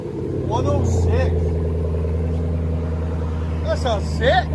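A Chevy Silverado 5.3L V8 with true dual exhaust and an 11-inch muffler holds a deep, steady, fairly loud idle rumble, with voices talking over it.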